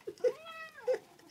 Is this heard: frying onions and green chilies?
no